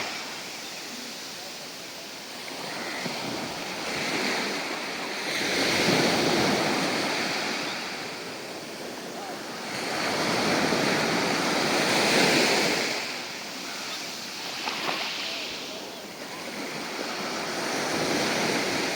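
Sea waves wash onto the black sand shore at Karwar, Karnataka, in broad roaring surges that swell and recede every five or six seconds over a constant windy hiss, with no voices.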